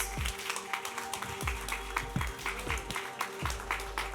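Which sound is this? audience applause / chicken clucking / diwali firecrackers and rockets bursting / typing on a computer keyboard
audience applause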